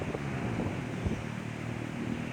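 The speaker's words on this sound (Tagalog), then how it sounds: "Ang sarap ng simoy ng hangin sa tabing dagat." Sea breeze blowing by the seashore at sunrise, a steady rushing wind buffeting the microphone with low rumbling gusts, continuous and close with no talk.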